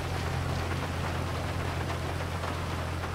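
Steady heavy rain pouring continuously in GTA V, a dense hiss with a low rumbling undertone, no voices.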